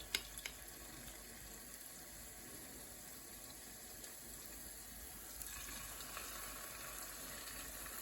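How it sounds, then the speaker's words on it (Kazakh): Cabbage patties fry in hot oil over high gas flame with a soft, steady sizzle that hisses continuously at low volume. Nobody speaks. "Қызарғанша қуырамыз бір жағынан, екінші жағынан да солай."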